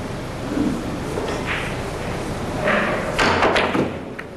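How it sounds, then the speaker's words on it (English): During a women's pool match, a player hits a jump shot with the cue, giving a sharp close knock and a brief clatter of balls over quiet hall ambience, with no talking. "She's got to reach for a jump shot."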